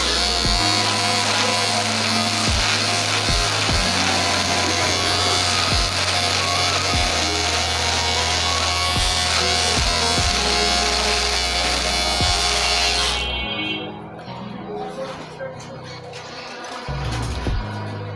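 An electric beard trimmer buzzes steadily and loudly while cutting a beard down short, with rhythmic low thumps as it passes over the face, then cuts off near the end leaving quieter handling noise.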